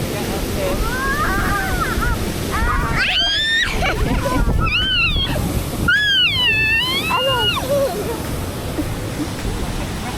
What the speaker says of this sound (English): the traditional wooden boats that take you right up to the base of the waterfall